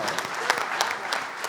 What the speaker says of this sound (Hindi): एक बार तालियां बजा के